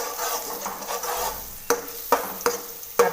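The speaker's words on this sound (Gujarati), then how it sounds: "લસણ ખાંડી લીધેલું છે તે એડ કરી દઈશું હવે તેને સરસ મજાનું મિક્સ કરી લઈશું" Crushed garlic being stirred into a spicy puffed-rice mixture, with a steady scraping stir under a light sizzle, then four sharp spoon knocks against the pan near the end, close and without speech.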